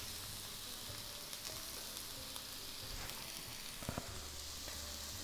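Mushrooms sizzling in a frying pan as their moisture cooks off, a dense, constant hiss with scattered pops and a few stirring clatters, close and steady without talk.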